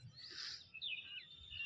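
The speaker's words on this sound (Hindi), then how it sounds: "चिड़िया आई है" A bird calls outdoors in a vegetable field, with high chirping phrases running through most of the short stretch over low background noise, fairly faint and with no one talking.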